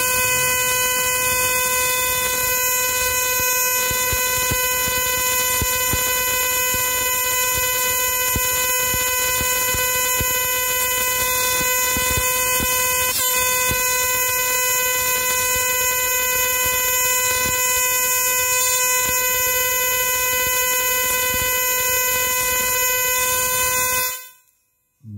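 High-voltage coil sparking to an object, driven by an Arduino interrupter, producing a loud continuous harsh buzzing tone with strong steady pitch, lasting about 24 seconds before cutting off abruptly.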